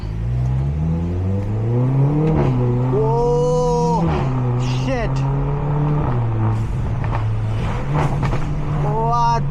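Modified Volkswagen Polo GT TSI 1.2 engine revving through gear changes while driving, steady loud engine drone rising and falling in pitch, with a voice talking over it.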